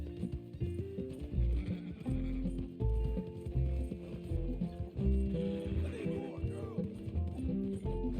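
Horse hooves clip-clopping along a desert road in Red Dead Redemption, a steady rhythmic gait up close with game music playing underneath.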